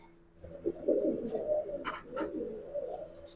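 Pigeon coos from a silver khaki pigeon in a home loft, a low murmuring coo running steadily through the moment with a few brief higher chirps above it, close by and with no talk.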